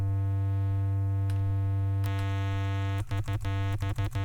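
A sustained, harmonically rich synth bass from Ableton's Operator runs through the Pedal effect in overdrive mode, holding a steady droning note that breaks into a quick series of choppy, stuttering retriggered hits near the end.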